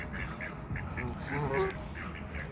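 Ducks quack repeatedly on a park pond at sunset while birds are being fed, short nasal calls scattered in quick bursts at moderate distance over steady outdoor background noise.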